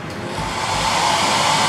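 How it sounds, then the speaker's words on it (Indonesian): A hair dryer in a VIP hotel room at the Grand Aquarium in Pangandaran switches on and runs with a loud, steady, breathy whoosh and a faint whine. The noise holds for about two seconds with no voices. "Terus ada hair dryer."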